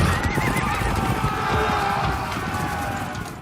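Horses neigh and whinny over the dense thud of galloping hooves on a muddy, slippery field during the filming of a large cavalry battle scene. The sound is loud and close, with no clear speech.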